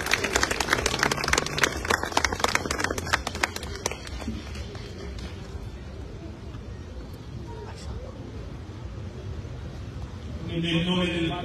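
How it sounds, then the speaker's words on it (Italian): A crowd claps in dense, echoing applause at a church service in Trapani, Italy, thinning out and fading over several seconds, leaving a murmuring room with scattered noise. "Quindi facciamo a loro un applauso di ringraziamento."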